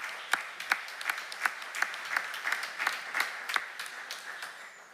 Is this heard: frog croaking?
no